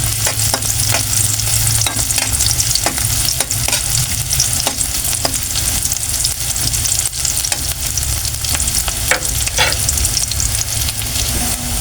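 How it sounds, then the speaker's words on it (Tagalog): Chopped onion and ginger sautéing in a hot pan, a loud, steady close-up sizzle with frequent scraping stirs of a spatula throughout, with no voices. "Sama na natin yung sibuyas at luya para sabay na silang tutong para sabay na maluto at mag-brown."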